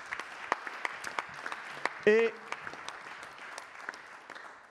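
Audience applause at a French student debate event, scattered claps throughout with a voice speaking briefly over them.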